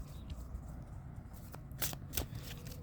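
Tarot cards being handled and laid out on a table, soft rustles and a few quick, crisp card snaps, close and quiet with no talking.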